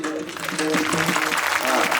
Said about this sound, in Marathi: ती टाळी अशी वाजली पाहिजे